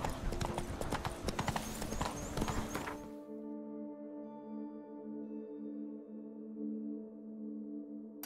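Horse hooves in the video game Witcher 3, rapid rhythmic clip-clopping for about three seconds that then stops, leaving only quiet background tones, with no speech.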